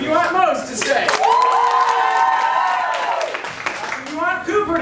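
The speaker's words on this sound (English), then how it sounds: "Clap if you want Mose to stay." An improv show audience claps to vote for a performer to stay, with crowd noise running the whole time and a loud, drawn-out vocal cry held high over the middle of the clapping.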